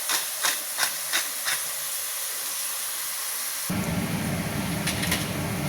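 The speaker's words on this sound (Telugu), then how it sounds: "బాగా వేపుకోవాలి ఆనియన్." Onion fries in a hot pan with a steady hiss and sizzle, sharp spattering pops at first, then a louder, denser sizzle after a stir, no talk.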